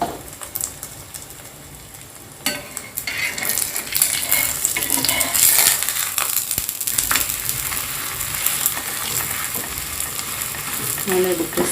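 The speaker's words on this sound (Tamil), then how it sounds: "நம்ம செஞ்ச போலியை எடுத்து போடுங்க. மீடியம் ஸ்பீடில் வச்சுக்கோங்க" A coconut poli sizzles as it fries in a pan on medium heat, giving a steady, close crackle that continues throughout, with a few stirring or pressing clatters and brief scrapes.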